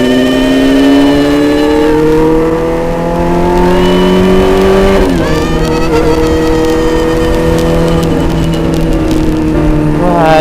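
A big motorcycle engine revs loud and close for about ten seconds, the pitch rising steadily, briefly dropping, then climbing again in a continuous throaty roar.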